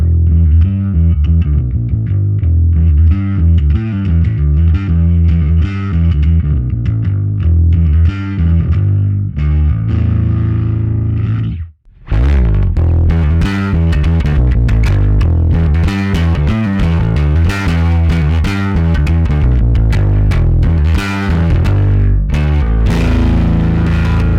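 Loud, gritty electric bass through an Ampeg Opto Comp and analog bass preamp, thick compressed low end, briefly cutting out near the middle before resuming with brighter, punchier notes.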